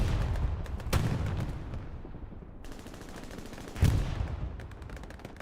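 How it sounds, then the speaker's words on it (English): Anti-tank rocket fire in the video game Hell Let Loose at Carentan Canal Crossing: two heavy blasts a few seconds apart, each ringing out over a continuous battlefield roar, loud and without speech. "Massive AT rockets."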